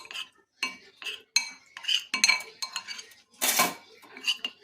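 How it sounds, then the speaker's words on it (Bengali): A spoon clinks and scrapes around a bowl as cornflour is mixed with water into a batter, with repeated close, bright taps and rubbing strokes in an uneven rhythm. "এরপর একটু জল দিয়ে একটা গোলা তৈরি করে নেব। কর্নফ্লাওয়ারের একটা গোলা তৈরি করে নেব।"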